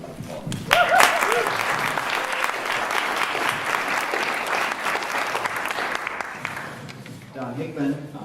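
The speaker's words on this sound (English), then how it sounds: "I think they deserve a huge round of applause" A crowd at a local food hub gathering gives a warm, sustained round of applause, steady clapping filling the room before tapering off as a voice begins to speak near the end.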